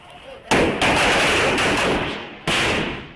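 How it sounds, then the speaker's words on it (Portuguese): Loud, sharp gunshots crack out in a burst, with a second blast a couple of seconds later, set against a noisy, chaotic outdoor background, as armed municipal guards fire during a street clash in Brazil and residents respond with fireworks. "Os guardas estão armados e disparam. Estão soltando tiro."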